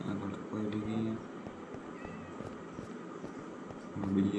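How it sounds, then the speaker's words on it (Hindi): Cats meowing in Minecraft, several short tonal cries in bursts near the start and again at the end, moderately close, over game ambience and someone talking. "बिल्लियाँ बोल रही है यहाँ पर।"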